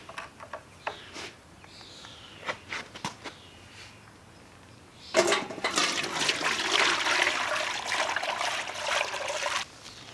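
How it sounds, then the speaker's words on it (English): Alfalfa tea liquid is poured through a metal strainer, a steady close splashing stream after a few scattered light taps and knocks. "you can pour it off through a metal strainer like this"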